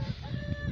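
Two white hens and a young rooster cluck and call briefly at close range in a short, steady burst of fowl sounds.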